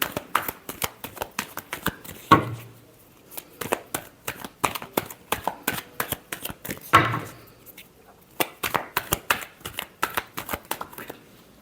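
A deck of tarot cards being shuffled by hand: rapid, crisp riffling bursts repeated in quick rhythmic runs, close and fairly quiet, with a couple of heavier slaps as the cards are squared.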